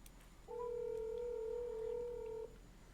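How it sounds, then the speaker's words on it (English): A telephone being dialed to call a podcast guest gives a single steady electronic tone lasting about two seconds, clear against a quiet room background with no talk. "let me see if I can get him on the phone"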